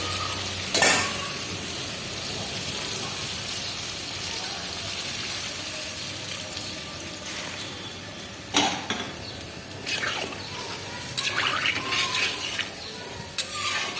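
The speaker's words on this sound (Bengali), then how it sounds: "এখন জল দিয়ে দেবো" Water poured into a pan of sautéed potatoes and eggplant for a vegetarian curry brings a steady broadband sizzle and bubbling, with a few sharp utensil clanks and stirring scrapes near the start and toward the end.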